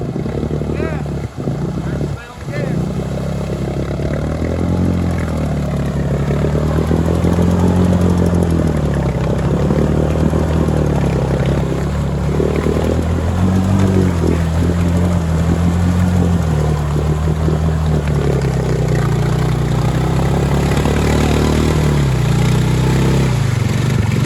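The engine of a Maverick off-road vehicle runs steadily and loudly up close with a droning tone. A voice speaks briefly over the engine noise.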